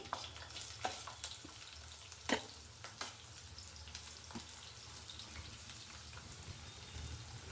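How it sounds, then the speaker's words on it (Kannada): Chopped onions and garlic frying in a pan for vegetable noodles give a low, steady sizzle close by, punctuated by a few sharp clinks and scrapes of stirring. "ಸೊ ಈ ಟೈಮ್ನಲ್ಲಿ ನಾನು ಇದಕ್ಕೆ ಈರುಳ್ಳಿನ ಹಾಕ್ತಾ ಇದ್ದೀನಿ."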